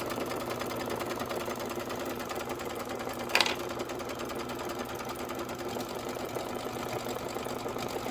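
Embroidery machine stitching a short Christmas bench pillow design, a steady, even mechanical hum with fast needle rhythm running throughout, moderately quiet, with one brief sharper click midway and no talking.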